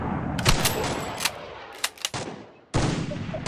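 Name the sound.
sniper gunfire in Free Fire video game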